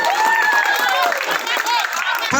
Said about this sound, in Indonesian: kasih tepuk tangan dulu untuk Sayyidina Ali